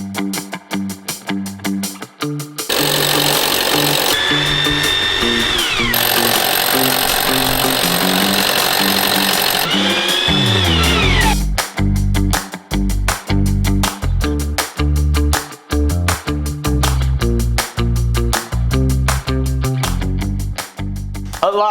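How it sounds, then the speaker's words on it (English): A big power drill bores mounting holes in bursts, the high whining motor running long and loud for several seconds, then winding down, followed by a series of sharp knocks and clunks. "it is now time to break out this big old beast and drill ourselves some holes"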